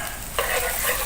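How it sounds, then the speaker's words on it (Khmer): Garlic fries in a hot pan for honey-glazed pork ribs, a soft background sizzle that turns brighter and louder as the garlic is stirred about, close up with no talk. "យើងដាក់ខ្ទឹមសយើងដែលនៅសល់មិញហ្នឹងបំពង"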